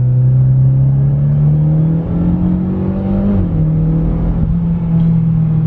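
A Mitsubishi Lancer Evolution pulls hard in third gear, its engine note loud and close, climbing steadily with one brief dip near the middle before rising again. No voices.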